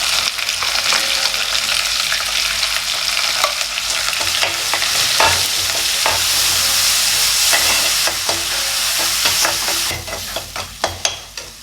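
Ground chilli and coriander powder fry and sizzle in a pan for Kerala sadya-style sambar, stirred with a series of sharp scraping and clacking strokes over a constant loud hiss.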